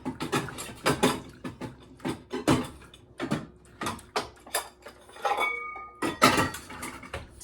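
A small clean dry bowl set down on a kitchen counter while making peppermint bark, amid a busy run of close clinks and knocks of dishes and utensils, sharp and fairly loud.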